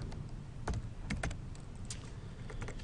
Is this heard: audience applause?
no